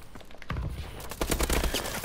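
Gunfire in the video game Call of Duty: Advanced Warfare sounds as a sharp shot followed by a rapid burst of several close, loud reports, busy and punchy.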